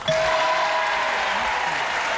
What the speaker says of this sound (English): 1, 2, 3, applaud!